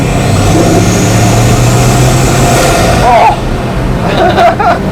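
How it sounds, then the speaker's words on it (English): A Bugatti Mistral's engine roars loud and steady and close, with rough low rumbling and a few sharp pops near the end. "because you hear the Mistral in this car"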